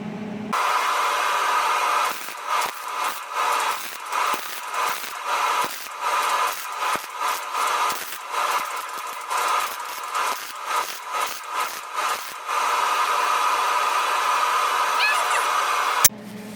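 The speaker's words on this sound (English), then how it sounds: "let me shut the welder off" An arc welder crackles and hisses while welding in a car door panel, a loud, harsh broadband buzz coming in bursts with short gaps, then one steady stretch near the end, with no voices.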